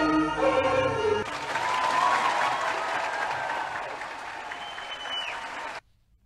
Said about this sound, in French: Les applaudissements étaient également au rendez-vous.